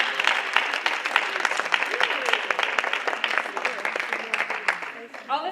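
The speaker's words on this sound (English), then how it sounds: "let's give him another round of applause for that" Audience applause at a women's transformation summit, a dense crowd of clapping hands filling the room steadily with a few voices mixed in.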